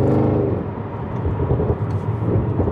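Audi RS6 engine on a downshift into second gear, a loud low rumbling roar that swells and holds heard from inside the car, with no talk over it.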